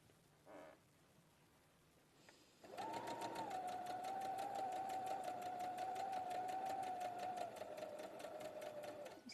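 A sewing machine stitches around a circle, starting after a short quiet pause with a steady, fast, evenly pulsing mechanical whir that runs at an even pace to the end, fairly close by.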